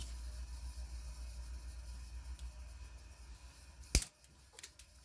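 A screw nipper cuts through model railroad rail with one sharp metallic snap, followed by a few faint ticks against a quiet low hum.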